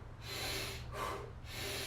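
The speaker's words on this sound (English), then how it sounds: "So they do 5 deep breaths." A person takes deep breaths in a close, loud series: two long forceful inhales and exhales through the nose and mouth, each rising and falling over about a second.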